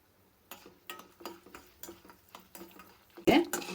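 Cashews, chana dal, urad dal and mustard seeds tossed in a hot pan for a wheat shavige bath breakfast, giving a run of short scraping stirs in a steady rhythm, then a louder sizzling burst near the end.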